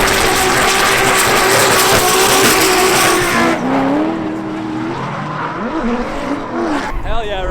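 Drift cars scream around a race track at an LZ World Tour event in Etown, tires squealing loudly and continuously as engines rev, the screech shifting in pitch as the cars slide, with crowd noise and voices underneath.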